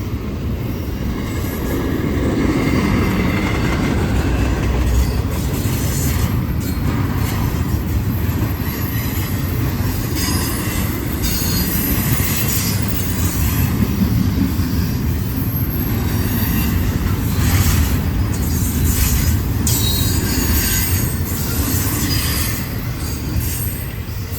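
A southbound Norfolk Southern freight train led by GE Evolution-series locomotives rolls past in Gaffney, South Carolina, a continuous heavy rumble of wagons with wheel squeal and rhythmic clatter, loud and close throughout.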